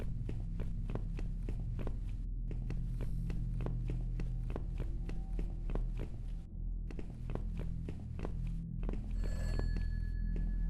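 Telephone ringing in the horror video game Those Nights at Fredbear's, a repeated rhythmic ring pattern running continuously and fairly loud throughout, with short pauses between bursts over a steady low hum.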